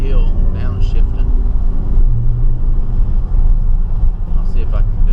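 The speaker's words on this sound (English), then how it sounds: "Usually it rumbles going down a hill, downshifting." Truck fitted with a Flowmaster Super 10 muffler gives a steady, loud low exhaust rumble from inside the cab while downshifting downhill, continuous throughout with a voice talking over it.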